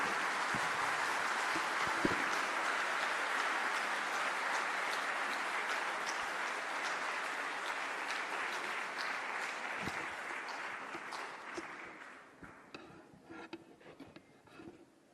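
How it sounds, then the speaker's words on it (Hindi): Sustained, loud audience applause at a government BSNL 4G service launch event, steady dense clapping that gradually thins and fades out near the end, with no talk over it. "आप सबकी जोरदार तालियों के साथ"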